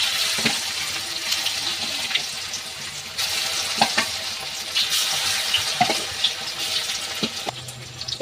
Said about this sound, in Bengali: পরেরগুলো আমি এইভাবে ভেজে নেব সবকটা।